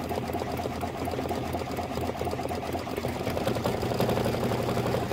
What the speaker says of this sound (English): You might hear some other stitching in the background.